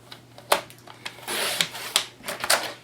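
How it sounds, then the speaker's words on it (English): Black 8.5 by 11 cardstock being cut down into a 1-inch strip, with a few sharp snips and a brief stretch of sliding, rasping blade noise, close and fairly quiet. "Cut it down, and I'm going to do a 1-inch strip."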